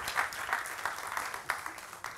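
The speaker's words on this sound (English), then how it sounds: "Can we send them on their way with a big round of applause, please?" Audience applause at a science-communication competition semi-final, moderately loud, a rolling crowd clapping with a few sharper individual claps standing out.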